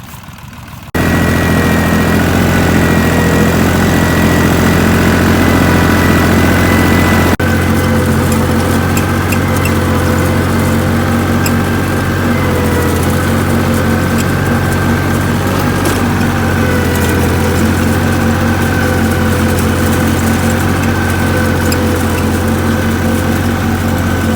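A Dongfeng 254 tractor pulls a single-bottom plough through black soil, its engine starting abruptly and then holding a loud, steady, heavy drone without a break; no talking.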